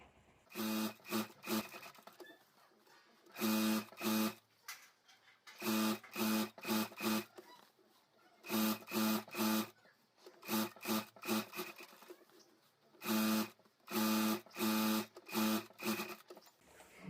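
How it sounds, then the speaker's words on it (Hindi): A sewing machine stitches fabric onto a rubber sheet for a handmade bag, running in loud, rapid mechanical bursts of a second or two separated by short pauses, close up with no voices. "तो पूरे स्क्वायर में मैं सिलाई कर देता हूँ।"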